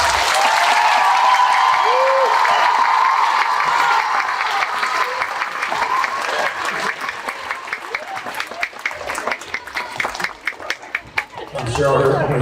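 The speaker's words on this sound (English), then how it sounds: "give a round of applause" School gym crowd at a Veterans Day celebration applauding a veteran on staff, loud sustained clapping that thins into scattered claps and footsteps, with some chatter mixed in.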